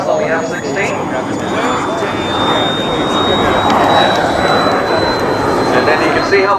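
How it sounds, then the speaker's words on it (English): Model F-16 jet powered by a 300 turbine engine flying overhead, a loud sustained turbine whine and rushing roar that swells slightly as it passes, with a voice talking over it. "you can see how much power that 300 turbine puts out"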